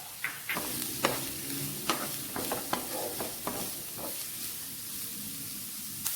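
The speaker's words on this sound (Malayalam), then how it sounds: "അരിഞ്ഞു വെച്ചിരിക്കുന്ന സവാള നമുക്ക് ഇട്ട് കൊടുക്കാം. പച്ചമുളകും ഇട്ട് കൊടുക്കാം. 2 തണ്ട് കറിവേപ്പിലയും കൂടി ഇട്ട് ഇത് വഴറ്റിയെടുക്കാം." Onions, green chillies and curry leaves sauté in a pan with a strong, hissing sizzle, while a spoon stirs them in irregular scraping clicks, close and steady.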